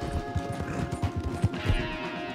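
A horse galloping in Red Dead Redemption 2, with rhythmic clip-clop hoofbeats at a quick, even pace, fairly close and moderately loud, with no talk over them.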